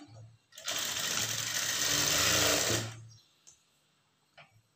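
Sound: sewing machine stitching blouse neck pieces

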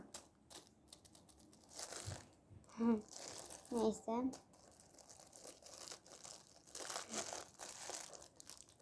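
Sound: plastic bag being opened and crinkled

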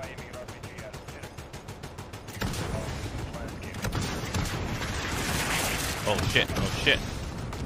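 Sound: gunfire, from video game Call of Duty: Modern Warfare

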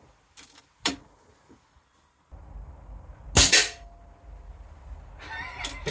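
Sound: air rifle shot at custom spinner practice target

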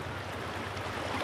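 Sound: strong water stream

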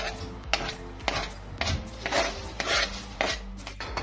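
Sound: finely chopping onion

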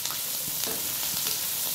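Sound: onions frying in a pot with ginger and garlic

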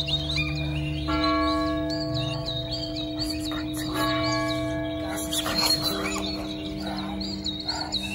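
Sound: church death knell bells ringing

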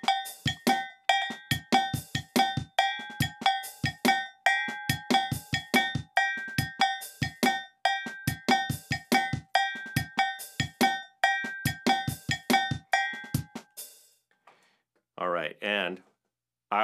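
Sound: cowbell pattern over a beat

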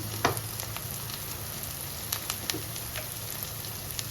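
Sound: masala sautéing with potol and prawns in a pan

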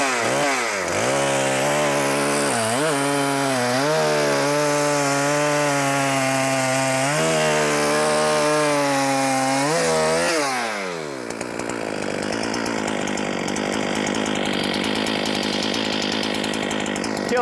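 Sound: Holzfforma G395XP chainsaw running and cutting wood

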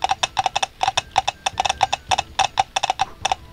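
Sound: horse hooves clip-clopping

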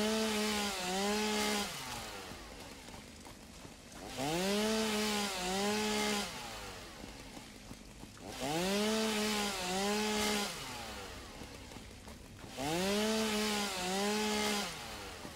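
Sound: chainsaw cutting vegetation in video game Satisfactory

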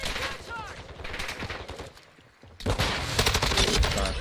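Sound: gunfire in Call of Duty: Modern Warfare 2022 video game

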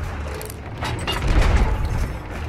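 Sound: ship cannons firing in video game

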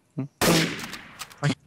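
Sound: gunshot in the Trouble in Terrorist Town video game

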